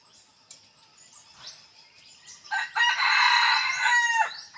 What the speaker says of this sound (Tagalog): Ayan yung tilaok niya mga ka-hunter.